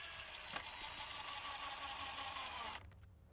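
A power drill drives screws into cedar floor joists on a gazebo kit. It gives a loud, steady whirring whine for almost three seconds, then cuts off into near quiet.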